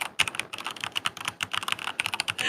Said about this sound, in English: Damn, you're typing.